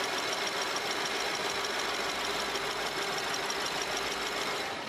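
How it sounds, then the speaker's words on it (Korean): A BMW 750Li with a 4000cc V8 engine idles steadily with its bonnet open, giving a smooth, even, continuous hum at a constant level with no speech over it. "바로 엔진 소리 한번 들려드릴게요."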